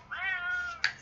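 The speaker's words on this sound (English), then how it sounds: "Oh, the cat." A cat gives one drawn-out, rising-and-falling meow close by indoors, followed by a brief sharp chirp. No one speaks.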